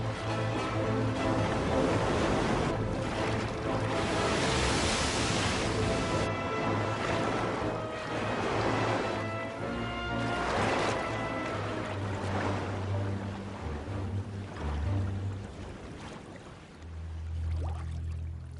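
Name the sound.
wind and waves battering a Spanish caravel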